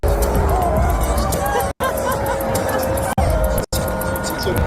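Tens of thousands of spectators in a stadium boo the other team's announcement, a loud continuous wall of jeering crowd noise broken by a few short cuts.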